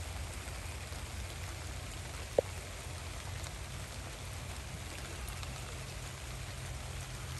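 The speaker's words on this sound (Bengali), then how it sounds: "ভালোই বৃষ্টি হচ্ছে," Steady rain falls with an even, close hiss that never lets up, and a single brief click breaks through about midway; no voices are heard.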